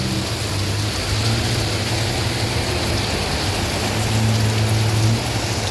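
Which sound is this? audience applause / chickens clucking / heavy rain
heavy rain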